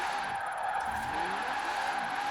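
The fastest car in Forza Horizon 4 drifts, its engine holding a steady high drone while the tyres slide with a wavering squeal, continuous and fairly loud with no pauses.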